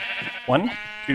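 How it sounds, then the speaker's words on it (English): A sheep in a Minecraft modpack lets out a single short, wavering bleat, brief and close, while someone talks around it. "Aha! We have found a sheep."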